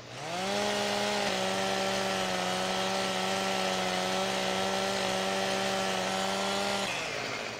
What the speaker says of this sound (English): Dang, that chainsaw's loud.